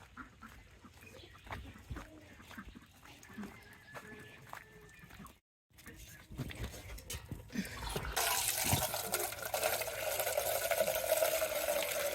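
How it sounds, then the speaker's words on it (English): Water gushes from an outdoor back spigot into an animal's water container on a farm in bad weather, a loud steady rush that starts partway through, after quieter stretches of faint movement and a brief silent gap. "And then I just fill her water with our back spigot"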